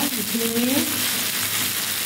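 Potato, pointed gourd, eggplant, drumstick, ridge gourd and tomato fry in hot oil with chilli, panch phoron and turmeric, giving a steady close sizzle and hiss, with a voice speaking briefly over it.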